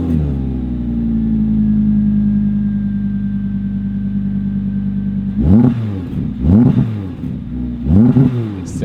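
A 2022 Audi R8 RWD Spyder V10 idles with a deep, steady drone, then the driver blips the throttle in three sharp, loud revs, each rising and falling quickly.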